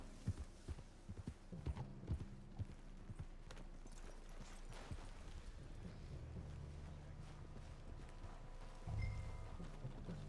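Horse hooves clip-clop in the Red Dead Redemption 2 video game, an irregular run of faint, soft knocks over a quiet windy ambience, with a brief louder thump near the end.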